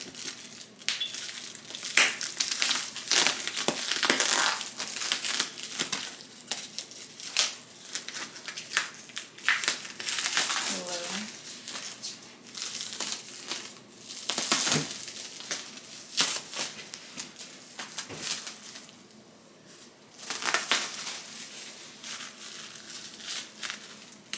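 Plastic packaging being peeled and torn off a boxed Dallas Cowboys rug, continuous loud crinkling and crunching up close for the whole stretch, with brief pauses between handfuls.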